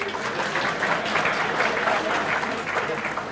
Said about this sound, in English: Thank you for the ironic applause.